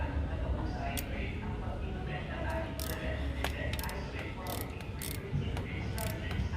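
A ratchet wrench loosens 12 mm bolts on a VVT solenoid in an engine bay, making close bursts of quick clicking ratchet strokes with short pauses. Low talk runs underneath.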